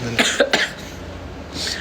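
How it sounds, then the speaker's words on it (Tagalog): A person with a cold gives a quick run of two or three close coughs, followed by a quieter breath. "May ano lang, sipon ubo pa din."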